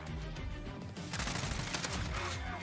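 SCAR assault rifle firing in a video game, dense rapid bursts of close, loud gunshots rattling almost continuously over a couple of seconds.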